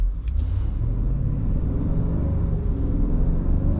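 A 2023 Ram 3500 Big Horn pickup with an 8-speed automatic drives along, giving a steady, loud low engine drone and road rumble throughout with no talking.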